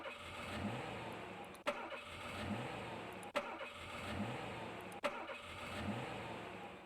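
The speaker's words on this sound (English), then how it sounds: "it is the Cobra car spawning sound" In the Age of Empires video game, the Cobra car cheat unit spawns with an engine-start sound, a revving mid-pitched car engine. It repeats four times in an even loop, each cycle opening with a sharp click.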